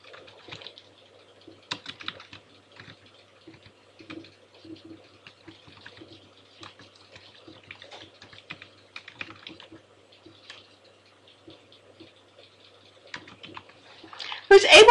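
Keys clatter steadily on a computer keyboard while data is entered into an Excel worksheet, with irregular bursts of close, light clicks throughout and a louder thump near the end.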